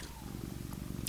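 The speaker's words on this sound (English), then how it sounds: "You can hear her purring loud today." A cat purrs loudly and steadily close by, its low rumbling pulses running continuously throughout with a couple of faint brief clicks.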